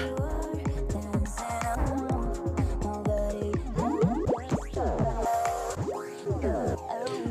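Music run through the Filter Machine effect in Algoriddim djay, with rapid sweeping, warbling pitch glides and choppy filtered bursts, sounding glitchy and synthetic throughout.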